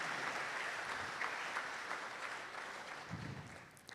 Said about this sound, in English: a good place to clap.